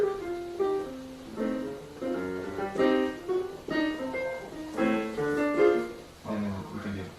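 A melodic line running through an altered dominant scale on a pitched instrument, a quiet stream of quick notes in short phrases with a strange, tense flavor, played close and alone.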